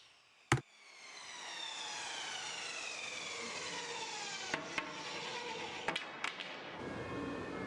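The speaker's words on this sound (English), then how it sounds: "and then ripping them down with the table saw" A table saw rips wood side panels for a modern dresser. After a sharp knock, a sustained whining cut runs for several seconds with a few clicks, then stops.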